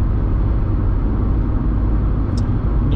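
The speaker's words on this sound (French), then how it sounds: "cette Dacia est assez bruyante de manière générale" Dacia Sandero Stepway 0.9 TCe (2017) driving at high speed, with a loud, steady roar of wind, tyres and engine filling the cabin throughout and no talking.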